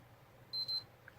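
Sony PlayStation 3 gives two short, clear electronic beeps in quick succession while its power button is held, faint against a quiet room hum.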